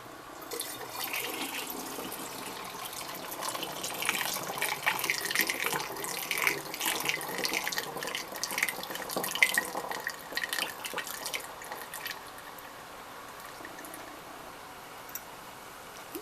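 Kombucha liquid pours and trickles steadily nearby, a splashy gurgling stream that swells in the middle and thins toward the end.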